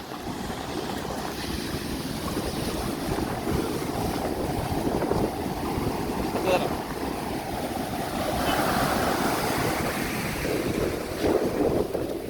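Sea waves and tide surge onto the shore in a steady, heavy wash, with wind buffeting the microphone and swells rising and falling throughout.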